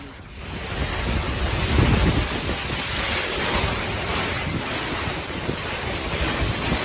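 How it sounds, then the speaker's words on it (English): Storm wind and heavy waves batter a boat at sea, a loud churning roar with wind buffeting the microphone and surges of water crashing against the hull. "Storm hitting a boat, that looks scary."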